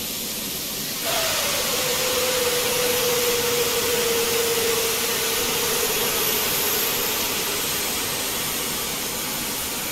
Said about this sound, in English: confirm that all four engines are spooling up